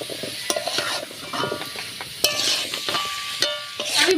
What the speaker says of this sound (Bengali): এখন আমি এগুলো দিয়ে মশলার সঙ্গে ভালো করে কষে নেব।